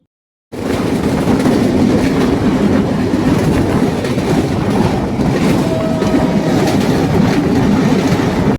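A train rumbles steadily and loudly through a railway station with rhythmic clatter of wheels on rails, a continuous rolling noise with a faint squeal near the end.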